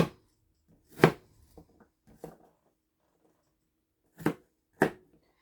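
A knife chops onion on a cutting board in sparse, separate thuds, four or five distinct strikes with a long pause between the early and late ones, close and clear in a quiet kitchen.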